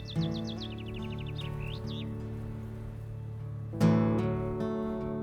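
Birds sing in Glenveagh National Park in spring. A run of quick, falling whistled chirps opens the scene, and a louder, brighter burst of calls arrives near the end over a faint outdoor background.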